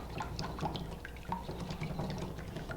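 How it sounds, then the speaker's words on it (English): A whisk stirs flax seed muffin batter in a bowl, giving faint, quick wet clicks and sloshing taps in an irregular rhythm, close and quiet with no talking. "So now we just whisk this together"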